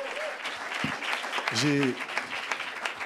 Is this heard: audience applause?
yes